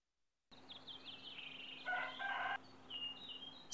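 Farmyard chickens and a rooster from a video game: a crowing call rises over a soft, constant background hum, with scattered chirpy bird notes before and after, fairly faint overall.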